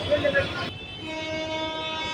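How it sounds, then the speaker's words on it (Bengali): A train horn sounds at Haridwar railway station, a loud sustained blast in the opening moment that cuts off, followed by a steadier, quieter tone over the hum of the station. "এটি হচ্ছে রেলওয়ে স্টেশন"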